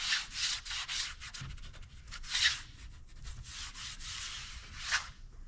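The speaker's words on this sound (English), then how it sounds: "We're just going to wax the inside corners." Wax being rubbed into the inside corners of a concrete slot drain sink mold made with stretch form fabric, a close, repeated soft scrubbing and rubbing in quick strokes.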